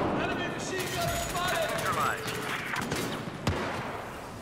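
Battlefield 4 gunfire rattles through a busy game scene, with one sharper shot near the end that could be the DAO shotgun firing slug rounds. A voice talks over the action throughout.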